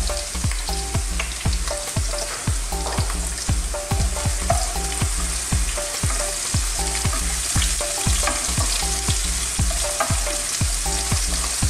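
Onions stir-frying in a wok for a chilli prawn dish: a steady loud sizzle with a rhythmic series of sharp spatula scrapes and clanks against the metal throughout.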